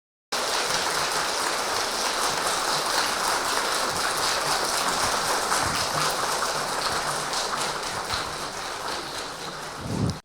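Warm applause from an audience gathered for a talk on spiritual practice to university students, a dense, steady clapping that holds at full strength for about ten seconds before cutting off.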